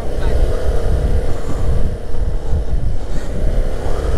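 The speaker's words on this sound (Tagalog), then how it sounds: "Malakas yung hangin." Steady, heavy wind buffeting the microphone with a low rumbling roar throughout, with voices faintly in the background.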